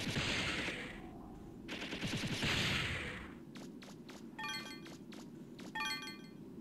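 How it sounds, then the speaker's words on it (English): Machine gun fire aimed at robots in the Megaman Legends video game, with two long rattling bursts followed by sharp, ringing metallic impacts, fairly quiet overall, with no talk. "thanks to our new jumping abilities, we can machine gun down the Arcoiton robots"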